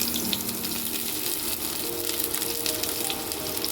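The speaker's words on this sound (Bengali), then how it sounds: "এবার আমি তেল দিয়ে দিয়েছি, তেলটা গরম হয়ে গেছে। এবার আমি পেঁয়াজগুলো দিয়ে দিচ্ছি।" Chopped onions sizzle as they hit hot oil in a pan, a steady crackling fry with faint watery hiss and occasional light clinks, no talking.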